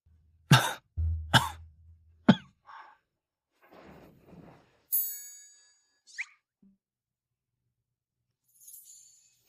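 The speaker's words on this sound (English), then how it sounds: "has he been coughing nonstop and unable to move?" Several sharp, close coughs come in quick succession, followed by softer breaths, a throat sound and a faint chime in otherwise quiet surroundings.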